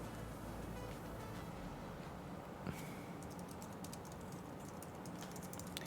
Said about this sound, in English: I'm typing logo inspiration